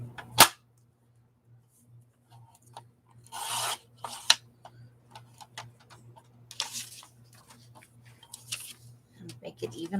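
Paper being trimmed for a Halloween gluebook journal: scattered short rasping cuts and rubbing scrapes, close by, over a faint steady hum, with quiet gaps between strokes.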